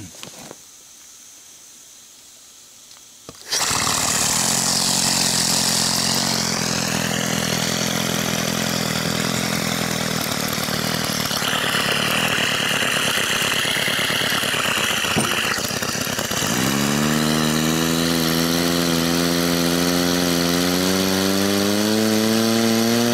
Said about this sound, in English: let's turn on the compressor again